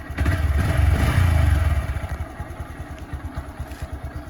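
A Honda MSX 125SF motorcycle engine revs loudly at close range, then drops to a rapid, even idle putter that continues to the end.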